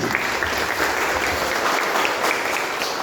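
Dense, loud applause from a campus audience fills the whole stretch, a steady wash of many hands clapping together without a break.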